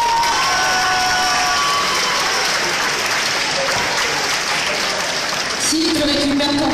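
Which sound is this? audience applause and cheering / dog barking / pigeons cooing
audience applause and cheering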